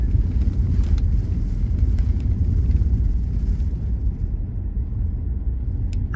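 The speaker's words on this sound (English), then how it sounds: "I know y'all hear everything in this car shaking because this road is rougher than" A car creeps at low speed along a rough, washboard dirt road, giving a continuous low rumble with rattling and shaking throughout, steady and fairly loud.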